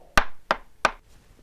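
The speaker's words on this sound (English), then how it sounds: "suddenly there was a knock on the door." Three sharp knocks on a door, evenly spaced and close, each a crisp rap followed by a short decay, with quiet in between.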